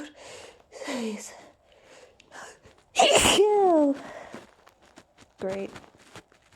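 A single loud, close sneeze breaks out suddenly with a voiced tail. A person speaks quietly before and after it in an indoor room.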